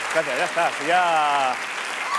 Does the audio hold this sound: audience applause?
yes